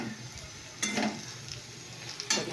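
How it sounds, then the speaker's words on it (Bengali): Potatoes fry in a pan while being stirred, a soft sizzle underneath with a couple of louder scraping stirs of the utensil against the pan, close and fairly quiet, with no voices. "দেখো আলু ভাজা প্রায় এসেছে, দেখতে পাচ্ছ।"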